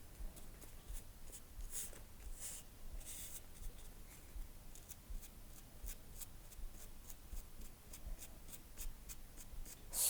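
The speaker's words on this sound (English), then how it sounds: "Stroke the brush along the paper." A hake brush double-loaded with paint strokes across paper in quick, soft, repeated scratchy brushes, close and quiet, with no talking.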